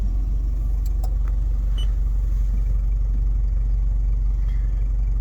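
Inside a 1996 Toyota Granvia diesel van, the engine hums as a steady, quiet low rumble at idle with faint small clicks on top.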